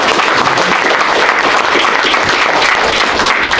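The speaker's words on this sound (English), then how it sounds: "So if you could go ahead and clap." Audience applause after a project team thanks its advisors at a hotel IoT energy presentation, a steady dense wash of many hands clapping, loud and continuous throughout with no pauses.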